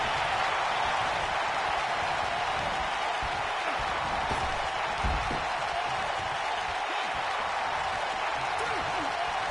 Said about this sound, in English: I don't remember the last time I heard a more passionate crowd than the one we have here tonight